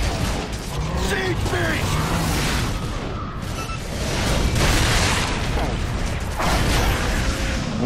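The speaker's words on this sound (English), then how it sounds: "they broke the gate" Enemies breaking a gate in Gears of War 3, a loud mechanical grinding and creaking with heavy booming impacts amid dense game noise, with voices talking over it.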